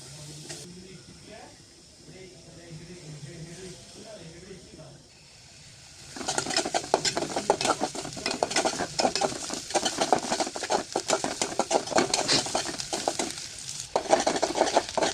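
Chopped onions frying in a pan for a potato dal, first someone speaking over faint cooking, then from midway a loud, dense sizzle with rapid crackles and stirring scrapes.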